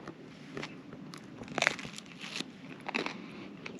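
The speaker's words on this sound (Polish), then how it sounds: "Gryz bułki." Someone bites into a crusty bread roll, giving a few soft crunches and crinkling sounds, close and fairly quiet, with no talking.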